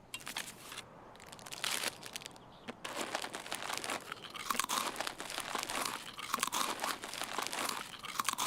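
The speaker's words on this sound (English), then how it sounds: "As loud as you can, munching in the middle of the combat zone." A character munches food in the video game Escape from Tarkov, loud close crinkling and crunching going on continuously with brief pauses.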